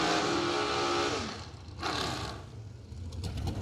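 Dragsters doing dueling burnouts at a bracket drag race, a loud engine roar and tire scream that dips midway and surges again, somewhat distant.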